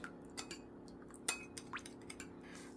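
A utensil clinks and scrapes against a pan as pork is stirred with sugar, in light, scattered knocks over a steady background hum.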